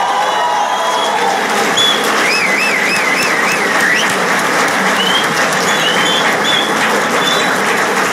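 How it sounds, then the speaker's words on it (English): An audience at an IIT event applauds to welcome a speaker to the podium, a loud, sustained wash of clapping from a large crowd, with faint whistles and cheers rising over it. "let us now welcome Tamil Nadu BJP President Thiru K. Annamalai to the podium with a huge round of applause"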